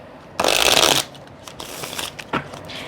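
Tarot cards are riffled in a quick burst, followed by softer shuffling and a final snap, close up.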